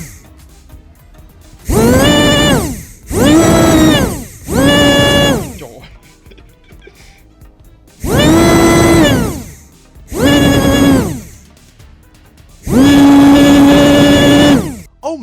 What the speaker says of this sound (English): Listen to this engine roar. Loud, high-pitched, motor screaming, fierce and intense.